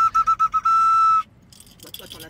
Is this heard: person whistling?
yes